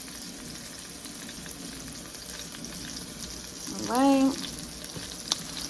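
Vegan steak frying in a pan, a steady sizzle running throughout, with a brief spoken remark partway through.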